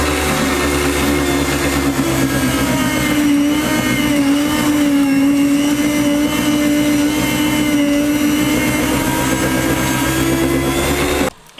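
A bread slicer cuts through a fresh loaf with a loud, steady motor whine and a low hum that holds for about eleven seconds and then cuts off abruptly.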